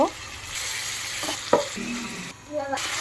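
Meat with mixed spices fries in a pan with a steady, close sizzle, broken by a few scraping strokes of a stirring spoon and a brief dip near the end.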